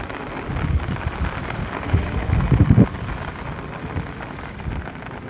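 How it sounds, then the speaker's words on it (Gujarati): Heavy monsoon rain pours down outdoors in a steady, dense hiss, with a few louder low rumbling swells midway that may be distant thunder or gusts; no voices are heard. "બહુ વરસાદ વધી ગયો"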